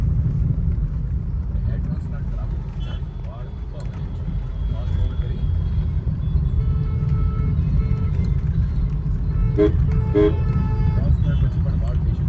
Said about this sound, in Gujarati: અમદાવાદનું ટ્રાફિક એટલે બહુ અઘરો ભાઈ